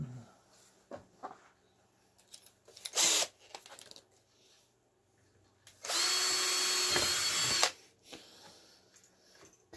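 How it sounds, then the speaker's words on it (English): A power drill bores through the plastic cap of a homemade keg and carboy washer in a workshop, with two bursts of loud whining motor noise, one short and one sustained, between quiet handling clicks. "Okay, so there's the cap drilled."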